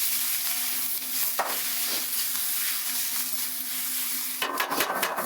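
Carrots, celery, onion, rosemary and garlic sweating in a pan for chicken cacciatore, a steady close sizzle and hiss with a brief clatter partway through and stirring scrapes near the end, with no talking.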